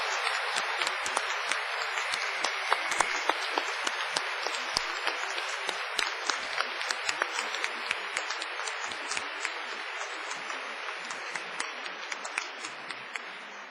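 An enthusiastic round of applause rises from the audience at a Cardiff University graduation ceremony, loud, dense clapping sustained for over ten seconds before slowly thinning.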